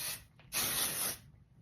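Two hissing bursts from a hairspray can, a short puff followed by a longer, steady spray at close range.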